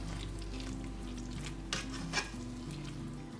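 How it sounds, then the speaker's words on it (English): Greek yogurt being stirred into a mixture by hand. Soft, steady stirring rides over a constant hiss and low hum, with two brief scrapes of the spoon near the end and no one talking. "So now I'm gonna just stir that in."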